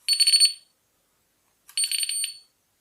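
A Prowess carp fishing bite alarm set to its loudest tone gives two shrill electronic bursts, each about half a second long and separated by a short silence, sounding close and alone.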